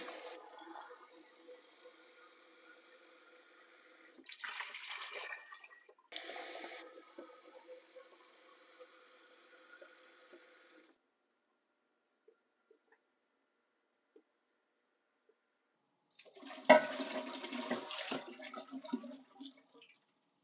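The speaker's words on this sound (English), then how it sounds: "So I'm going to put these in the pot here and get water in there." Tap water runs into a cooking pot in several bursts, a steady close hiss and splash for a few seconds each, separated by pauses and a long silent stretch before a final pour.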